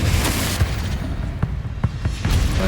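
Confringo spell blasts from the Hogwarts Legacy video game: a dense, loud rumbling bed broken by several sharp booming hits in quick succession.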